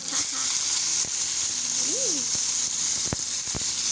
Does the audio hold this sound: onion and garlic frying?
yes